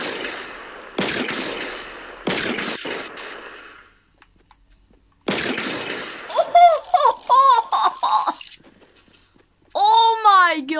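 Fortnite gunfire: several sharp bursts of shots in the first seconds, separated by short gaps, followed by a young voice talking over the game audio.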